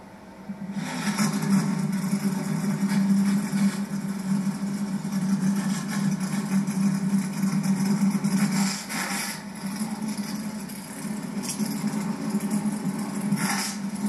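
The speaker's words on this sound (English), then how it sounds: "Drivers, start your engines!" Several NASCAR Truck Series engines at Pocono rumble steadily together at a low idle, a dense mechanical drone with a few brief surges, no voices over it.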